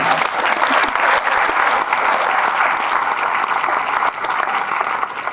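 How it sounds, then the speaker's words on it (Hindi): Loud, sustained audience applause at a kavi sammelan poetry gathering held for NHPC: a thick, continuous wash of clapping from a large crowd for over five seconds, with only slight dips in intensity. "आप जरा मन से ढंग से तालियां बजा दीजिए।"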